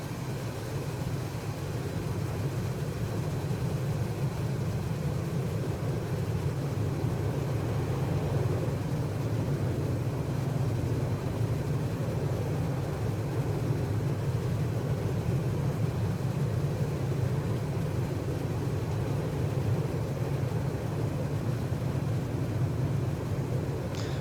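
Steady, loud low-pitched roar of Boeing 747-200 engines at cruise, heard from a cabin position close to the engines in a flight simulator, droning continuously and evenly throughout with no voices.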